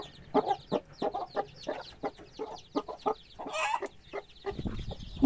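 Chickens cluck in a farmyard with a brood of around thirty to forty birds, a dense run of short, close clucks and calls coming one after another, with a brief flutter near the end.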